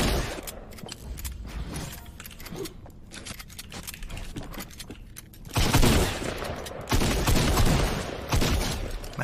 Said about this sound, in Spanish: Mira la escopeta esta, qué buena es